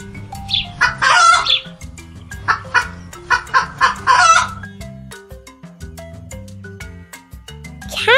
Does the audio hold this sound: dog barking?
no